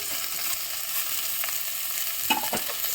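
Okra sautéing in a pan for sambar: a constant close sizzle with a few scraping stirs and a small clatter near the end.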